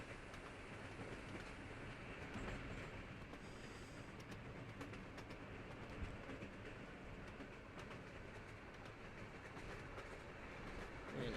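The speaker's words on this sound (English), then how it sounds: "I'll tell the train to stop once we get there." A PRR T1 steam locomotive in Trainz Simulator 3 rolls steadily with a dense, continuous rumble and rail clatter, faint and unbroken, with no voices.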